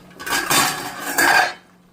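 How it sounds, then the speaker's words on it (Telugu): A metal lid comes off a cooking pot of spicy country-chicken curry on a home stove, two clanking scrapes of metal on metal, close and loud, then quiet. "అది సౌండ్ చేస్తున్నట్టుంది, మూత తీసేసి ఒకసారి చూద్దాం."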